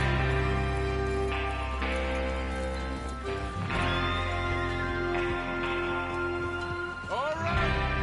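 Horses in a Red Dead Redemption 2 game scene, their whinnies and hoof clops mixed into a dense, continuous bed of music and ambience with a rising tonal sweep near the end.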